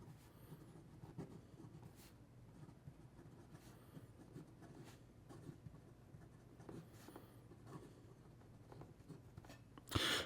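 A Fifty4T Titan Ultem fountain pen with a Jowo number 8 nib writes on paper, giving a faint, soft continuous scratching with small strokes and pauses in a quiet room, no speech.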